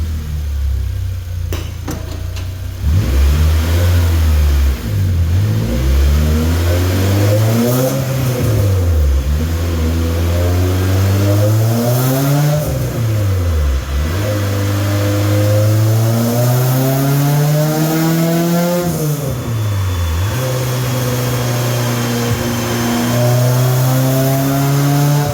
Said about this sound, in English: So this next pull, keep an eye out in this area.